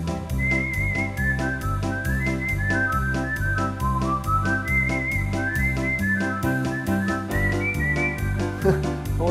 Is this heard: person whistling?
yes